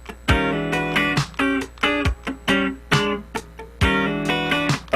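Funk rhythm guitar part: short, crisp chord stabs with an interval figure and two added downstrokes, played alone in a tight syncopated rhythm with clear gaps between the hits.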